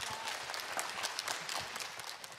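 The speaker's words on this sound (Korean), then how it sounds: "다시 한번 큰 박수 부탁드리겠습니다" Applause from an audience at a lecture on building a happy marriage, a steady wash of clapping heard fairly faint and distant for a couple of seconds with no voices over it.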